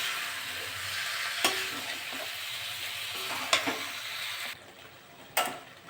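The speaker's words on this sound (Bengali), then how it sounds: "ভালো করে মশলার সঙ্গে কষে নেব।" Chicken skin and potatoes sizzle and crackle in a pan with spices as they are stirred and fried, the steady frying hiss broken by a few sharp clinks of a spatula against the pan.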